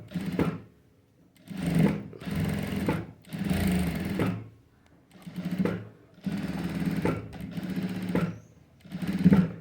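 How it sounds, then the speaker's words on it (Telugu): An electric sewing machine stitching a blouse runs in repeated bursts of about a second each, a close mechanical whir separated by short pauses. "ఇలా బార్ పీస్ తీసుకొని చక్కగా ఇలా కుట్టు వేసుకోవాలి"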